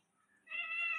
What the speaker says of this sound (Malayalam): എത്രയാ പൂച്ചകൾ ഉണ്ട്.